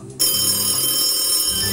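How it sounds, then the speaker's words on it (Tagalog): A telephone rings on a radio broadcast for a call-in promo winner, a steady bright electronic ring that cuts in suddenly and sustains, loud and close. "tinatawagan na namin ang next winner sa Kring Kring Panalo Malacash sa telepono"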